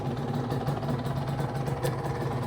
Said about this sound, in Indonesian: Cakep, suara mesinnya cakep.